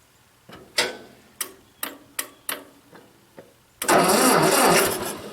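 A Ford 8N vintage tractor starter ticks and clacks in a series of sharp, evenly spaced bursts, then the engine catches and roars loudly, running steady and close.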